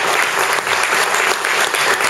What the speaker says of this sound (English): So a quick round of applause for Tracy and Michelle.